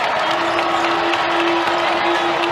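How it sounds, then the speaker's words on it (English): Crowd of a little over 6,000 fans at United Supermarkets Arena during a TCU vs Texas Tech women's college basketball game, a loud, steady roar of cheering and applause with a sustained pitched tone running through it. "TCU feeling the pressure from the crowd here in United Supermarkets Arena"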